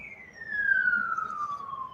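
An ambulance siren wails at a distance, a single steady tone that slowly falls in pitch and stays faint against quiet background hum.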